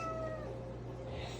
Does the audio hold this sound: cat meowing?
yes